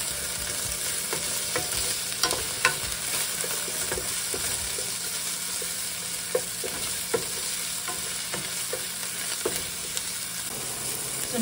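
Tomatoes sautéing in a pan while squid is being cooked, giving a steady close sizzle and frying hiss with occasional sharp clicks of a utensil stirring against the pan.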